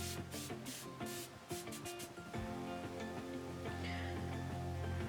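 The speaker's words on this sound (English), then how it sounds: "We are going to spritz our face" A Belif Aqua Bomb Mist face spray is spritzed in several quick hissing bursts, then gives way to a steadier soft rushing sound, close and fairly quiet.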